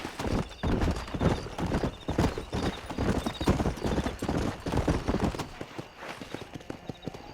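Horse hooves clatter in a fast, continuous galloping rhythm in the Red Dead Redemption video game, loud and close, with whinnies and faint voices mixed in.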